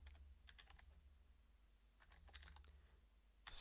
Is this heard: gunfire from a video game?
no